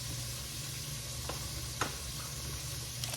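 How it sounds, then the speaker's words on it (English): Chicken sizzles steadily in a frying pan, a continuous even crackle with a few brief clicks from stirring or utensils on top, close and moderately quiet with no talking. "while the chicken is frying"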